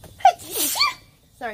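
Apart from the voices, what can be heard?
sneeze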